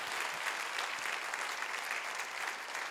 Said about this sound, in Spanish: demos un aplauso más fuerte al Rey